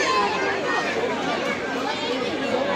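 A dense crowd chatters on a railway station platform, with many overlapping voices forming a steady, close murmur throughout.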